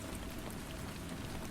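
Gentle rain falls steadily with a soft, even hiss of drops on a surface. The sound stays constant and close throughout, with no talking.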